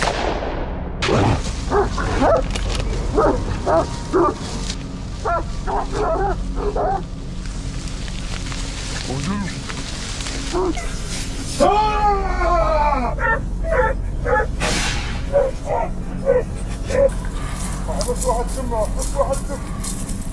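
Hunting dogs bark and yip repeatedly while swarming a wild boar, amid a chaotic mix of whimpers and voices, the sounds close and busy throughout.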